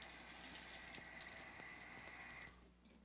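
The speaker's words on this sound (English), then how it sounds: "and there's an automatic faucet." Water runs steadily from an automatic faucet in a bathroom with a walk-in shower and bathtub, a soft continuous splashing stream that cuts off abruptly near the end, leaving quiet drips.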